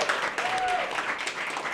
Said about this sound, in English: Let's hear applause for that, right?